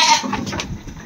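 A young full-blood goat on a farm, about four months old, bleats loudly and close up during ear tagging, a single harsh, strained call lasting about a second with no talking over it.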